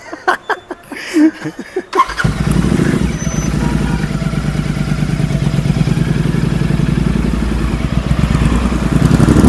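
A motorcycle engine starts after a few seconds of clattering and knocks, then runs loud and close at a steady idle with a throbbing, rattling note that goes on to the end.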